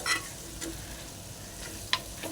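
Chicken fry is stirred in a pan, giving a few faint, brief spatula scrapes and a soft sizzle, quiet and close.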